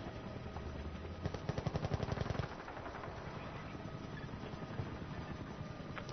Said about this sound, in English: Oh, helicopter. Chopper,